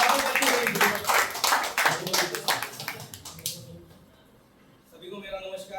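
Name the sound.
audience applause for a speaker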